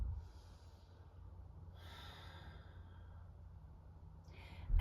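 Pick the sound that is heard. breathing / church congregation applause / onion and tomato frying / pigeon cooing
breathing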